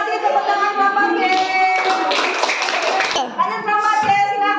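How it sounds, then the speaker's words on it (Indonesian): Schoolchildren clap hands in a classroom, a brief flurry of close claps in the middle set between a woman teacher's spoken instructions. "Terima kasih tepuk tangan Bapak B."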